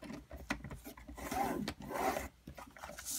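Cardstock is scored for a money envelope, giving short scraping rubs of a scoring tool dragged along paper in a few quick strokes, close and quiet.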